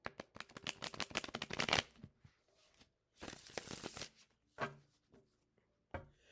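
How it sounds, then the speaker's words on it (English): A deck of tarot cards is shuffled close by in quick riffling bursts, a dense flurry for about two seconds, then a longer burst after a pause and a few short final flicks, with no talking. "So let me shuffle for just a little bit."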